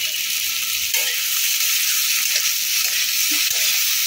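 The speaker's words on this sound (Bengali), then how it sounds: "আবারও ভালো করে নেড়ে চেড়ে নেবো।" Soya chunks and vegetables fry in a pan with a steady, close, bright sizzle that lasts throughout. Soft scraping and knocks come from stirring now and then, and no one speaks.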